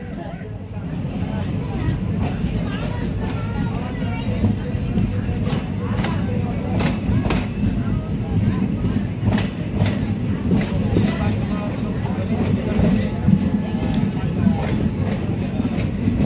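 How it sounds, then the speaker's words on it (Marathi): Purna-Parli passenger train 57657 pulling away from small Pingli railway station, a steady rumbling roll with faint clickety-clack of the wheels throughout, carriage interior noise constant, with occasional speech mixed in. "आपली ट्रेन जी आहे ती 1 मिनिटाच्या स्टॉप नंतर पिंगळी रेल्वे स्टेशनवरून निघालेली आहे."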